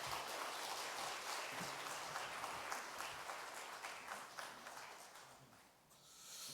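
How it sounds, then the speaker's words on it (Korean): A church congregation welcomes the pastor with warm applause at a Sunday morning service, dense and fairly loud at first, then easing slightly before swelling again near the end. "우리 뜨거운 박수로 환영하겠습니다."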